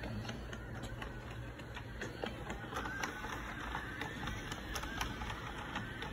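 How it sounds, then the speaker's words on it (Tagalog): A homemade PCB etching agitator built from an old CD-ROM drive, running on a 5 to 12 volt DC supply, whirs and ticks steadily with a faint mechanical rattle throughout, close and continuous. "PCB etching agitator using old CD-ROM drive."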